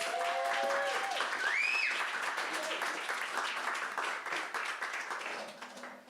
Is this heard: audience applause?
yes